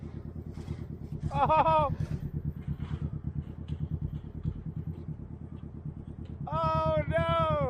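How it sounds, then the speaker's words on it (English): Lowrider cars roll by with a steady low engine rumble throughout, loud and close, while a voice shouts out briefly twice over the passing traffic. "we hear the lowriders drive by"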